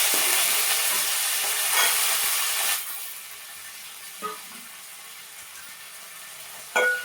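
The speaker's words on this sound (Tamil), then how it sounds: "ஆட் பண்ணி நல்லா வதக்கிக்கலாம். எரிக்குது, பொரிக்குது." Onions and green chillies sizzle and hiss loudly in hot oil, the crackle dropping quieter midway, with a couple of brief stirring clinks near the end.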